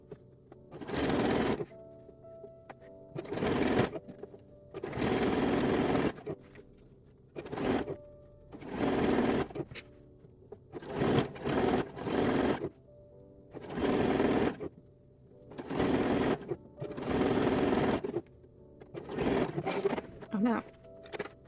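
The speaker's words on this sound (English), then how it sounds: "I finished stitching the underbust elastic" Sewing machine stitching underbust elastic on a lingerie piece, running in repeated bursts of whirring, rapid needle clatter separated by short pauses, close and moderately loud.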